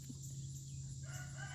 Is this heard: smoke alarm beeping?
no